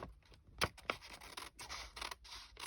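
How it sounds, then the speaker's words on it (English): Scissors snip through paper at a craft table in a few short, quiet, crisp cuts, with soft scratching and rustling between the snips. "see if we can cut a straight line with our scissors."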